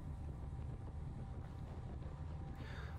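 Steady headwind rushing over a GoPro on a racing bicycle during a criterium on a motor racing circuit, a constant low roar that fills the whole clip with no talk.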